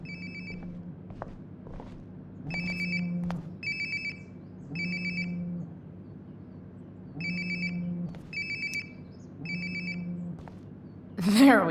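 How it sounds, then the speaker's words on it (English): A phone rings in the video game Life is Strange: Before the Storm, a repeated electronic ringtone in regular bursts separated by short gaps, clear and fairly close, over a faint game background. "Sounds like my phone is definitely nearby."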